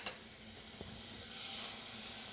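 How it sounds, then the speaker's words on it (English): Hash browns sizzling in butter in a frying pan, a steady bright hiss that swells louder partway through as they settle into the hot fat, close up with no voices. "And stick our hash browns right on top, just like that. Listen to that nice sizzle."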